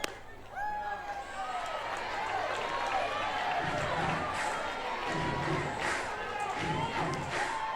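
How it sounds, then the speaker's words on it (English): A softball stadium crowd at a Florida State versus Virginia college game cheers steadily, a broad roar that swells louder over several seconds as a batter comes up, with a commentator talking over it. "the crowd gets ever louder for Janai Kerr"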